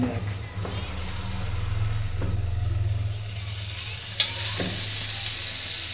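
Masala frying in oil in a home kitchen, a steady close sizzle with occasional stirring scrapes and a soft low hum underneath, no speech.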